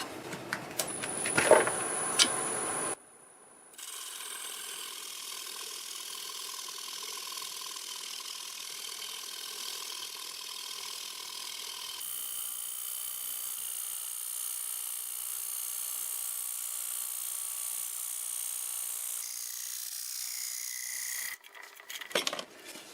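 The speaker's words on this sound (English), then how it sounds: "I just kind of hold the chisel and let it cut through on its own" A wood lathe spins a segmented wood ring at 600 RPM while a chisel cuts through it, giving a steady, continuous whirring whine that follows a few seconds of clattering handling noise and cuts off near the end.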